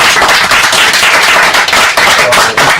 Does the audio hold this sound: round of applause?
yes